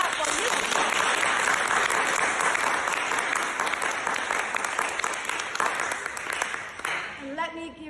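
Sustained, dense applause from a group clapping for volunteers on a humanitarian education trip in Ghana and Kenya, steady and close for most of the stretch before thinning out near the end.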